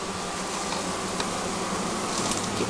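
Bees swarm around an open hive, a dense continuous buzz that stays loud and close throughout, with individual insects whirring past now and then.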